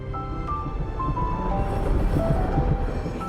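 A Seoul Line 1 subway train runs along the track with a steady, loud rumble, rhythmic wheel clatter and a few faint squealing tones.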